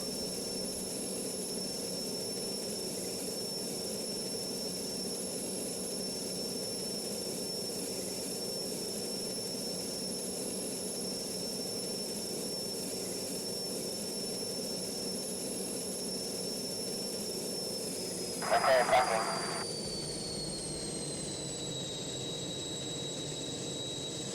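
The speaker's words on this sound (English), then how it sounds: "Full power, we're up over 500 knots." A jet aircraft at full power in the flight game Strike Fighters 2 roars steadily with a sustained high whine, broken by one short burst of noise near the end before the tone drops slightly.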